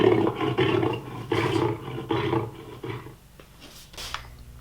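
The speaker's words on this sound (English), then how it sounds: "This is a lion." A lion roars in a series of loud, deep bursts, about four close roars tapering into lower grunts and breaths at the end, with no talk.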